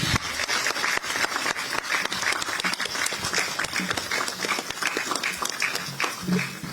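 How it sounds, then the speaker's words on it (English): Audience applause at the Bank of Ghana's new Accra headquarters during the Asantehene's visit, a sustained round of close, crisp clapping with uneven rhythm and no speech over it. "please give them a resounding round of applause"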